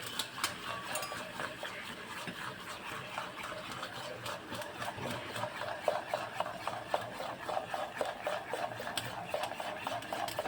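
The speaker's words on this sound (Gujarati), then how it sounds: "હવે આપણે બધું જ મિક્સ કરી દઈશું" Rice flour dhokla batter mixed with Eno and water is stirred in a bowl, giving a soft, continuous scraping and sloshing with light spoon clicks, fairly quiet and close.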